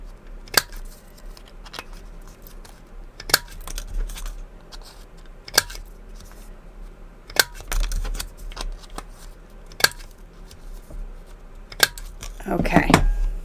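Sharp isolated clicks of a craft edge punch pressing through paper for a reading journal, spaced a few seconds apart, close and crisp, with a rustle of handled paper near the end.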